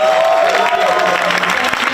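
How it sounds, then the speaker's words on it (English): Applause from an audience at a campus lunch-and-learn talk, steady and moderately loud for two seconds, with faint voices mixed into the crowd noise. "So let's all give her a round of applause."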